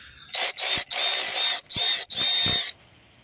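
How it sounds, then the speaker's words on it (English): A ratchet backs a screw out of the boost sensor on a Land Rover Range Rover 3.0, five loud, close bursts of rapid clicking separated by short pauses before it stops. "So I'm going to remove the screw here from the map sensor, or the boost sensor"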